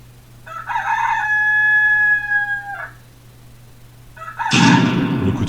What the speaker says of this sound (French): Interrompu par le coq.